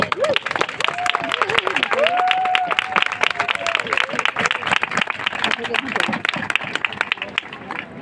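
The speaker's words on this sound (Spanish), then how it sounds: "lo que me sale es dar un aplauso para vosotros mismos" A crowd at a 'No a la caza' anti-hunting protest in Cádiz bursts into applause, with sharp, rhythmic clapping mixed with cheering and lively chatter and shouting voices throughout.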